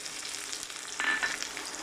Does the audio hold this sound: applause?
no